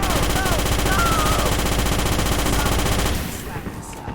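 Heavy automatic gunfire in the Starship Troopers video game, loud and continuous for about three seconds, then it stops and quieter background sound remains.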